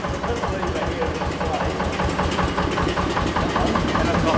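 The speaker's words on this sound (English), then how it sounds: "A nice little single cylinder thruster diesel." A small single-cylinder thruster diesel engine runs steadily nearby at a museum, its rapid, even chugging thump continuing throughout at a constant loud level.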